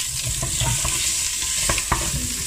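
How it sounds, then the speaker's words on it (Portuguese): Ingredients frying in a pan for a soup, a continuous close sizzle with several short scraping stirs, no voices. "Deixar fritar bem fritinho"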